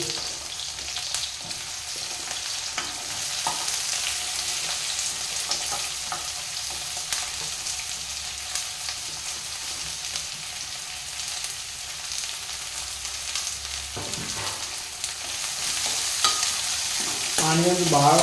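Onions and dal fry in a pan with a steady, close sizzle and occasional stirring scrapes throughout, and no one speaking.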